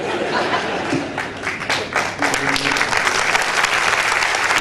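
Steady, dense applause from a sizable audience at a Gujarati comedy show, with a little crowd chatter mixed in throughout.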